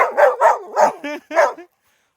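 A Labrador barks in a quick series of five or six sharp, loud barks close by, with short gaps between them, then falls silent.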